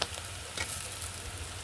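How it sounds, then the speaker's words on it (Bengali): Onions and green chilies with ginger-garlic paste sizzle in hot oil, a soft continuous frying hiss with a faint stir scrape, close but quiet. "কাঁচামরিচ আর পেঁয়াজগুলো একটু ভালোভাবে ভেজে নেব"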